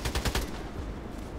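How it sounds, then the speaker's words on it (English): A silenced sniper rifle fires in the first-person shooter Contract Wars. A few quick muffled shots come close together at the start, then trail into a low rumble, with no voices. "I think it's a sniper, the silencer."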